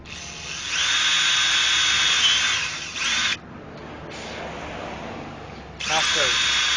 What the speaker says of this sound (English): The next part is we need to remove this tab. I like to just drill it